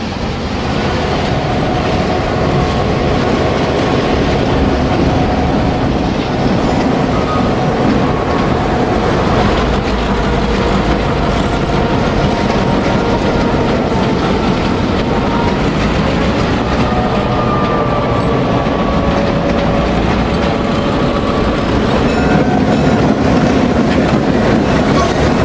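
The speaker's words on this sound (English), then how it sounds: "A freight with ABAFs on the front and rear rolls through Oak Ridge" A freight train led and trailed by ABAF diesel locomotives rolls through Oak Ridge, a loud, continuous rumble of wheels and cars with faint squeals and clatter, close by and unbroken for the whole stretch.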